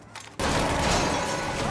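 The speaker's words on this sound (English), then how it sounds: "look at that explosion" A loud burst from an in-game explosion in Mafia Definitive Edition erupts after a quiet moment and holds as a dense, sustained roar until the end.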